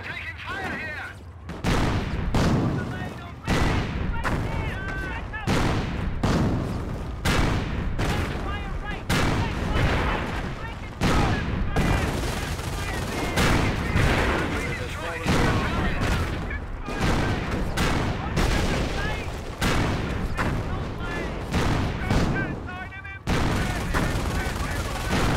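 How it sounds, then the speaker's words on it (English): Continuous gunfire in the Company of Heroes war game, rapid rifle and machine-gun bursts with heavy booms packed close together, loud and unbroken, with voices calling out between the shots. "We're taking fire here!"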